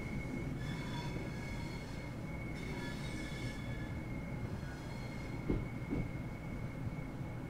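A slow Southeastern high-speed electric train in Train Sim World 2 pulling away along the track: a steady rumbling drive with a sustained motor whine, faint rail noise and a couple of soft thumps, no talking.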